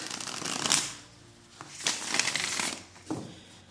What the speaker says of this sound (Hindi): These cards don't shuffle really well, let me shuffle them.